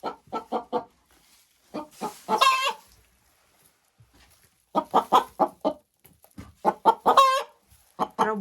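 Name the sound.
chicken hen clucking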